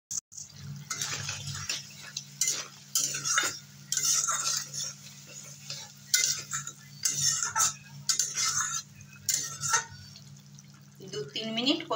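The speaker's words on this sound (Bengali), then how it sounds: "দু তিন মিনিট কষিয়ে নেব" Spices with salt, turmeric and Kashmiri chilli powder stirred and fried in a pan for an egg and pointed gourd curry, with steady sizzling and repeated spatula scrapes and clinks, close, while a person talks over it.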